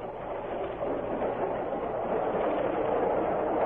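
Train of the Central do Brasil line rumbling steadily along the rails, a continuous dense roar with faint rhythmic clatter, used as a sound effect in a 1948 Brazilian radio drama, no voices over it.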